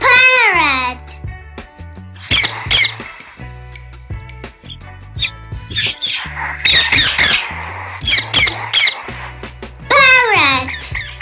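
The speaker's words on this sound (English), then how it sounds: "P for parrot." A parrot squawks loudly and repeatedly up close, its harsh, wavering calls coming in short bursts separated by pauses, with chattering, babble-like vocal sounds between them.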